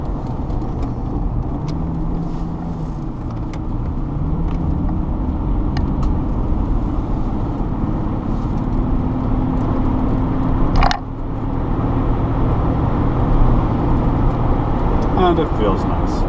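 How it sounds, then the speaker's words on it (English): A 1986 Jaguar XJ-SC drives on a twisty road, heard from inside the car as a loud, steady engine and road drone with shifting engine tones, while a voice talks over it. "let's see what this Jag is like on a twisty road"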